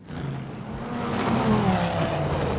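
Race car number 84 at Spa near Eau Rouge and Raidillon, a single engine rising in level as it passes the spectator position, with a steady engine tone swelling toward the middle and holding.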